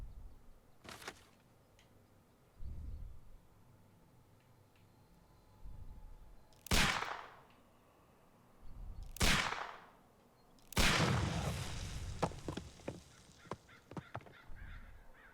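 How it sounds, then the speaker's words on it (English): Dr. Watson fires his pistol at a package in Sherlock Holmes: Crimes & Punishments, a detective video game. Several loud, sharp shots ring out one at a time with long gaps between them, and the last one is followed by a long, rumbling tail. "Do you have your pistol? Good. Fire at this package."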